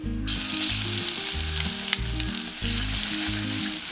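Crushed garlic hits hot coconut oil after mustard seeds have popped, giving a steady, close sizzle with a sharp rise at the start and constant frying crackle throughout, no voices.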